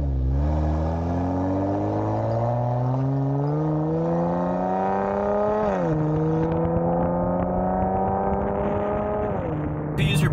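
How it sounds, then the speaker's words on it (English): A car with paddle shifters revs up steadily with rising pitch, drops briefly as it upshifts into second gear, then climbs again; loud and close, no talking. "You accelerate and then shift up, and boom, now we're in second gear."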